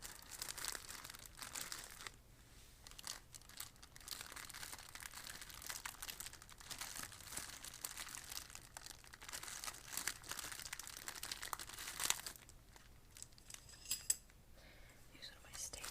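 Crinkly backpacking gear packaging is torn and ripped open by hand in a steady run of close, soft crackling and rustling, with quiet whispered talk mixed in and a few sharper crunches near the end.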